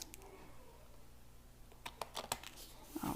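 Edges of a card base being trimmed, starting quiet and close, then a quick cluster of sharp clicks and snips near the end, faint overall.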